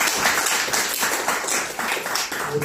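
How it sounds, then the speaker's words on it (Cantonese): A church congregation applauding, with steady dense clapping from many hands throughout, fairly near and sustained without a break. "我大家俾掌聲歸榮俾上帝"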